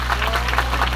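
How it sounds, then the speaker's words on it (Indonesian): Brief applause from a crowd for the organizing committee at a community gathering, a dense patter of clapping heard in a short burst. "Saestu tepuk tangan dulu kangge panitia yang begitu luar biasa"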